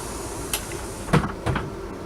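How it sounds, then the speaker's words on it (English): A South Western Railway train carriage door opening onboard, heard as a couple of soft thuds and a sliding knock over a steady low hum of the carriage interior. "Just keeping this door open."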